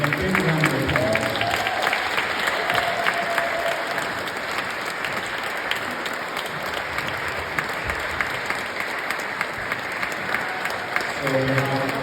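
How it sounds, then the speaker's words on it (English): An audience at a vintage fashion show in Howden claps loudly and steadily as the models return to the stage, a dense sustained round of applause with crowd noise and some voices mixed in. "welcome all our models back onto stage in a big round of applause"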